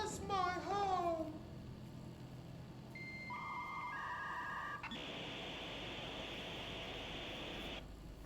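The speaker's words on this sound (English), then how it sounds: "What's with the dial tone?" Dial tone in the video game Control: steady electronic tones and a sustained beep ring out clearly after a brief wavering sound, over faint background hiss, with no talk.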